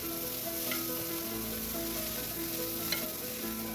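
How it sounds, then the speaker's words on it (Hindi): Cabbage and other vegetables sauté in cooking oil, giving a steady, close sizzle with faint stirring touches and no talking. "अब जनाब ये वाला जो सब्जियां हैं उनको सौते कर लेते हैं।"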